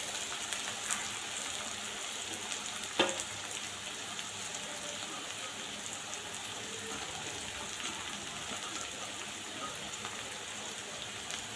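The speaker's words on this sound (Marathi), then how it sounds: "हे अजून 2 मिनिटं परतून घेऊयात।" Poha is stir-fried in a pan for kande pohe, giving a steady soft crackling hiss like light rain with one brief stirring knock, close and quiet throughout, no voices.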